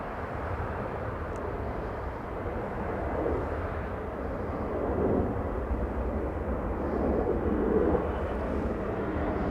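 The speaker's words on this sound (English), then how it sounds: "That's ABX Air, a 767 freighter." An ABX Air Boeing 767 freighter at LAX makes a broad, continuous jet roar that slowly swells and rumbles, heard from a distance with no talk.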